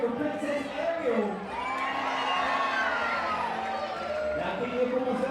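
An audience cheers and whoops at a Disney princess stage show aboard the Disney Dream cruise ship, a sustained roar with children's shouts, while an announcer's amplified voice rises and falls over it.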